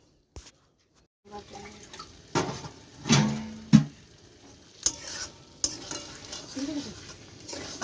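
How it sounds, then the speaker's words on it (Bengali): Mutton curry sautéing in a pan over low heat: soft frying sizzle with scattered spoon scrapes and clatters against the pan, quiet overall with a brief silent gap near the start. "এই চটপট করে কষিয়ে নিচ্ছি একটু ঢাকা দিয়ে দিয়ে অল্প আঁচে কষাচ্ছি"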